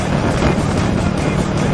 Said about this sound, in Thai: หน้าเครื่องดังนะ